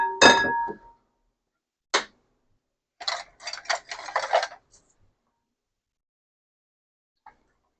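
A spoon clinks against a bowl while Jello is stirred to dissolve, a sharp ring first, then a lone tap, then a brisk run of scraping, clattering strokes before a single faint tick at the end.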